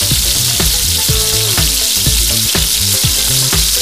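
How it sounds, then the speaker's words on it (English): Okra fries in a very hot pan with oil, giving a loud, continuous sizzle close to the mic along with rhythmic stirring scrapes about twice per second, and no voices. "Let's now fry up our okra."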